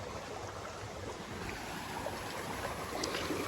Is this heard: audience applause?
no